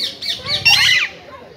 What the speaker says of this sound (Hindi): तो गई पैरोट है, कितने सारे पैरोट है।